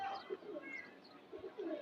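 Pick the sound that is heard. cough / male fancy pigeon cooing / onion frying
male fancy pigeon cooing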